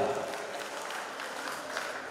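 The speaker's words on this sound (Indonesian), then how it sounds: "Tepuk tangan yang meriah." A congregation claps together at an HKBP church celebration marking a foundation-stone laying and 50th jubilee, producing a steady, dense wash of applause that holds evenly for about two seconds with no break.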